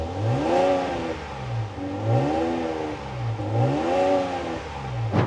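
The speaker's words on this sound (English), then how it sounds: "I'm gonna get in this thing and rev it because I wanna hear what it sounds like." A Ram truck's Hurricane engine revs repeatedly from the driver's seat, its pitch climbing and falling in about three smooth, steady swells over a loud, close, continuous drone, with no talking.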